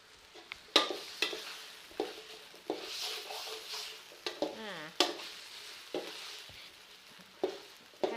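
Pork belly stir-fried with southern Thai curry paste, sizzling steadily in a hot pan with repeated scraping stirs and utensil knocks at an even, near rhythm, no voices over it.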